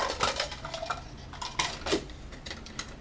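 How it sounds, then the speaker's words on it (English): An agate mortar and pestle grinds a trimyristin sample into potassium bromide, giving sharp, close clinks and short gritty scrapes in an irregular rhythm with no voices. "an agate mortar and pestle that we're going to use to mix our sample with the KBr."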